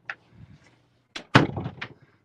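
A door in a room lined with bookshelves closes with a short creak and a firm thud, then a rattle and a soft knock as it settles, all close by with no talk.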